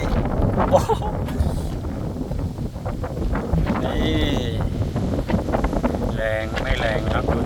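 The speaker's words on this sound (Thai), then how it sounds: "นี่โอ้วันนี้ลมแรงมากเลย" Strong wind gusts buffet the microphone on an elevated road in Loei province, Thailand, a steady rushing roar throughout while someone talks over it.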